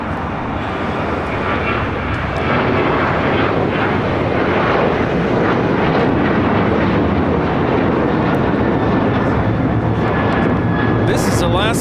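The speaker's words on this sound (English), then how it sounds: "1398 taking off to Mazatlan on a 737-900ER in the One World livery" Alaska Airlines Boeing 737-900ER in One World livery taking off from LAX, its engines building into a loud, sustained roar with wind buffeting, while people talk throughout.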